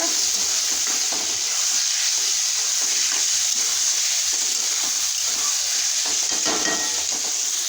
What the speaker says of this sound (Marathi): टोमॅटो टाकून घेऊया मस्तपैकी टोमॅटो हलवून घेऊया